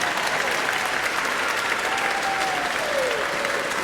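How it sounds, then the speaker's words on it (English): Audience applauding kindergarten teachers at a 2015 kindergarten promotion ceremony, a steady dense wash of many hands clapping throughout, fairly loud and close, with no talk over it. "give them a round of applause again"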